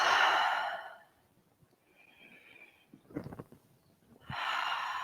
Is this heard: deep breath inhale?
yes